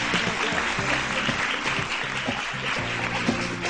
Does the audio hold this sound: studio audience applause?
yes